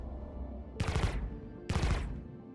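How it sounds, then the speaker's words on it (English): Two loud bursts of Omni Sky 9 laser cannon fire from a ship in Star Citizen, each a dense crackling volley about a second long, separated by a short gap over a low engine hum. "the weapons I used, the stock weapons that came with, the Omni Sky 9 cannons, laser cannons"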